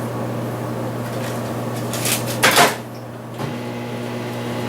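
A 600 watt microwave oven runs with a steady close hum, broken by a clunk and a short clattering rattle of the door closing midway before the even drone carries on.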